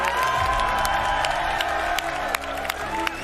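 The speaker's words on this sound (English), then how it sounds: "Can we get a round of applause for Stig, everyone?" A large crowd at the Xbox X019 event in London applauds and cheers continuously, with scattered whoops rising over the dense clapping.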